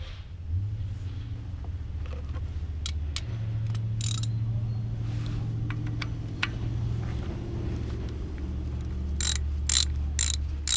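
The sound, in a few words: ratchet removing 10mm ignition coil bolt on 2007 Toyota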